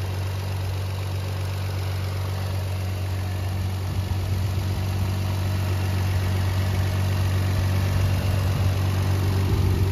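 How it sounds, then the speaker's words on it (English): A 2000 Toyota Avalon XLS idles steadily with a low, even hum and a slight exhaust note, no knocking, continuous and close for the whole stretch. "Started the engine. There is a little bit of exhaust sound."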